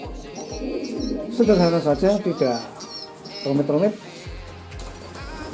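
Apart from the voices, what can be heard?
pigeons cooing in a cage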